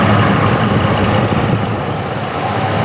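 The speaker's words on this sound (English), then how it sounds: "And the engine hums just as you would expect." A 2008 Chevrolet Colorado pickup idles at close range, a steady low engine hum with the air conditioning running, even and unbroken throughout, with no voices.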